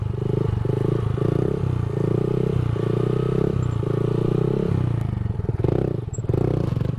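A Honda Grom small motorcycle doing sit-down circle wheelies, its engine buzzing loud and close in a pulsing, uneven rhythm of throttle blips and dips, with occasional clatter toward the end.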